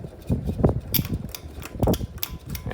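A noisy SMC UF42 ceiling fan motor runs with uneven, rattling clicks and knocks in irregular bursts, close and fairly quiet, with no speech.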